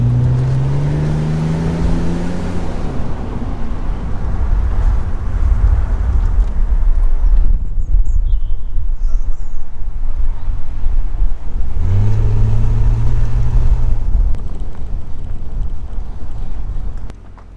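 A 3.0 BMW Z3 out on the road, the engine pulling up through the revs at first, then cruising with heavy wind rush before another rising pull, then a sudden cutoff.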